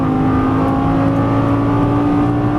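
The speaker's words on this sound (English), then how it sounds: "Now throttle to the left. Get a good run. Right hand upshift." A Lamborghini Gallardo LP550-2 accelerates hard on a track, its engine droning loud and steady at close range with a sustained high-revving tone through an upshift.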